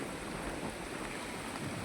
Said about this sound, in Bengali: দেখতেই পাচ্ছ খতরনাক বৃষ্টি হচ্ছে